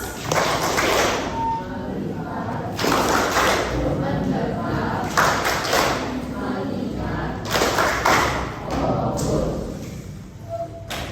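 A school class doing the 'tepuk fokus' clapping routine, several bursts of many hands clapping together in rhythmic groups, fairly loud in a classroom, with voices chanting along between claps.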